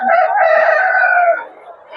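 Rooster crowing loudly and close at a chicken market, one long harmonic call that rises, holds and then trails off.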